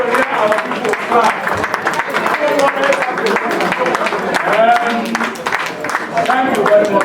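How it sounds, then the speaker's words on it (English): A crowd of constituents at a Nigerian community event gives a round of applause for an honourable member, the clapping steady and dense throughout and mixed with voices and cheering from the audience. "I want to hear our people clap."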